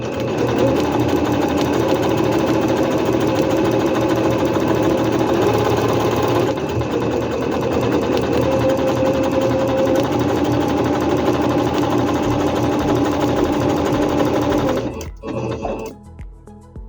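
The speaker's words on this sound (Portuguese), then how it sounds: "Posiciono o tecido novamente na máquina, abaixo a sapatilha e, sem fazer o arremate, faço a segunda costura." A Singer C5605 electronic sewing machine stitches a second seam through fabric, its fast whirring motor and needle chatter running steadily and loud before stopping abruptly near the end.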